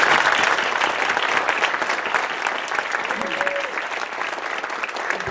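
An audience at an awards presentation for the Dr. Martin Luther King Jr. Awards applauds steadily for the winners, a dense and even wash of clapping throughout with no voices above it.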